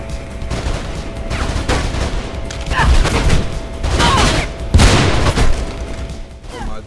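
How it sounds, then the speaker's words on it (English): Gunfire in Mirror's Edge: bursts of loud shots and booming impacts arriving in clusters over several seconds, close and forceful, with sharp cracks standing out above a rumbling backdrop. "No more shots."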